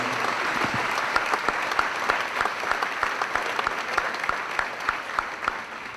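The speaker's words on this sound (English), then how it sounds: "let's join us in a round of applause for all of our veterans" Audience at a high school NJROTC ball applauds veterans, a steady sustained round of clapping from a full room with occasional sharper claps standing out, no talking over it.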